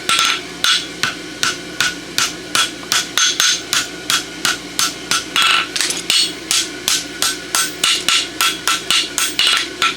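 A hammer forges a steel roadster horseshoe on an anvil in fast, even, ringing strikes, about three per second. The blows are close and loud and carry on without a break, with no talking.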